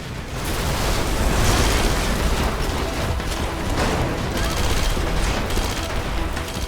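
An explosive barrel blows up in the video game Red Faction Guerrilla, a dense, loud, continuous roar of blasts and rapid gunfire-like crackle that stays intense throughout.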